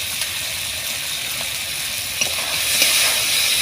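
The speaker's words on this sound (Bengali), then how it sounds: "দিয়ে আমি ভালোভাবে আবার মাংসটাকে ভাজা ভাজা করে নেব।" Chicken pieces frying with salt, turmeric, chili and cumin powder, a dense steady sizzle with a few light stirring knocks, growing slightly louder toward the end, with no talk.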